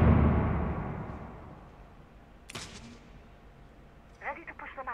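A flashbang grenade going off in Rainbow Six Siege: a deep boom fades out slowly, followed by a sharp crack and some brief clattering game sounds.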